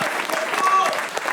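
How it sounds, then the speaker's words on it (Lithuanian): A studio audience claps briefly and steadily for comedian Mantas Bartuševičius after a viewer vote on a comedy show, a short burst of applause with voices mixed in. "Plojimai Mantoj."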